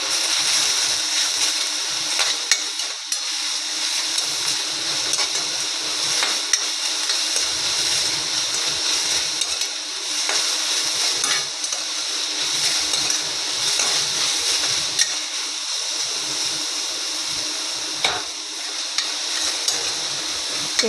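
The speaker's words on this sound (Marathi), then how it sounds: "चमच्याने आपण त्याला चांगलं परतून घेऊया" Onion frying with red chilli and a spoonful of red chilli powder in a lightly oiled pan, a steady close sizzle running throughout while a spoon scrapes and stirs at irregular moments.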